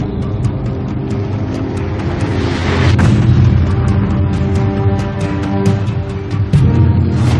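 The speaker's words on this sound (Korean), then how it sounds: "바다 밑에서 핵무기가 폭발한다." An underwater nuclear weapon detonates, giving a deep, continuous roaring rumble with a broad surge around the middle that stays loud throughout, with no voices.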